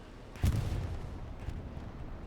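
Artillery fire in a multiplayer war video game: a single heavy boom lands near the start, followed by a rumbling decay and faint distant battle noise.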